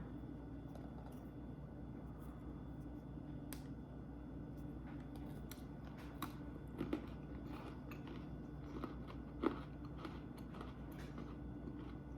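A crunchy caramel snack is bitten and chewed up close, giving scattered faint crisp crunches and clicks over a quiet, low background hum.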